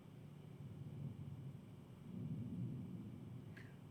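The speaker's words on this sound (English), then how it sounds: "That's a metal door." A low, faint rumble rolls through the stretch, swelling midway like distant thunder, as a metal door moves somewhere inside an old prison building, with a brief faint squeak near the end.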